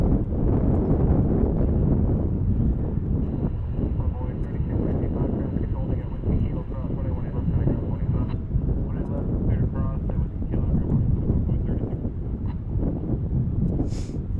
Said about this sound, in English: their 767 is departing, headed off to Phoenix here